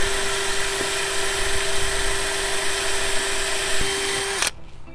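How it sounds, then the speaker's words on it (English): A drill with an acrylic bit bores at high speed through an acrylic boat windshield, a steady close whine that holds one pitch and then cuts off abruptly near the end, with no talking. "the acrylic, it definitely helps to have our included acrylic drill bit"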